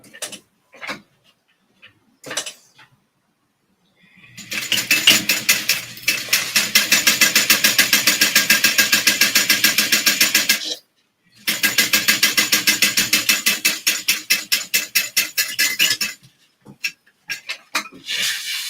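A sewing machine stitches a sleeve seam in two long, loud, steady runs of rapid needle clatter separated by a short pause, with a few isolated clicks before and after and no speech.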